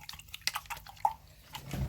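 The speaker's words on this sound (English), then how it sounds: "I had to wash my brush" A paintbrush is swished and rinsed in a cup of paint-mixing water, giving a few soft drips and light splashes at close range in an otherwise quiet room.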